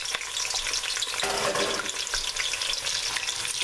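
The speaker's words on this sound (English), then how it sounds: "saute the onion" Chopped onion sizzles and crackles in about three-quarters of a cup of hot oil on medium-high heat for a taquera salsa, a dense, steady frying hiss close by with faint stirring and no voices.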